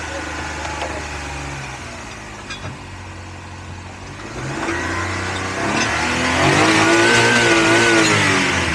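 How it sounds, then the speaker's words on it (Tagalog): A Japan surplus car engine idles low, then revs up, rising in pitch and loudness toward the end, with a voice faintly audible at moments. "Ganda pa ng tunog ng makina."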